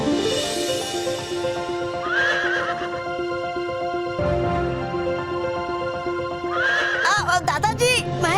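Horses harnessed to a chariot neigh loudly over layered dramatic music, two drawn-out whinnies separated by a few seconds, with a low rumble and rhythmic clip-clop late in the scene.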